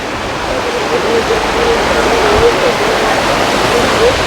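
A broad, steady roar of the Ghataprabha river rushing under the Papadi bridge fills the scene, loud and continuous, with faint voices underneath.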